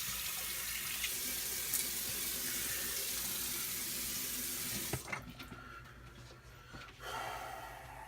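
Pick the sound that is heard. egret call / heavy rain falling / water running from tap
water running from tap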